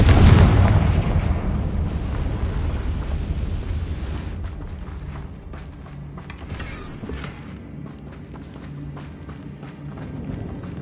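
A Confringo fire spell explodes in the Hogwarts Legacy video game: a loud, close, broadband blast at the start that fades into a long rumbling tail with scattered crackles and mechanical creaks.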